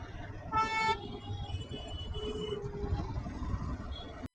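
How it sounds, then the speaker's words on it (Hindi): Heavy road traffic on the return drive from Ooty rumbles steadily, and a clear car horn honks early on. Fainter toots and engine noise follow, with a sharp clunk at the very end. "तो ये कुछ हाल है ट्रैफिक का अगले 20 मिनट से।"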